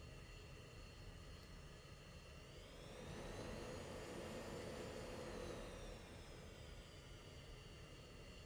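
A fighter jet engine in the Falcon BMS flight simulator spools up on a takeoff roll from runway 27 left, a steady loud whine and roar that swells midway and holds, with no talk over it.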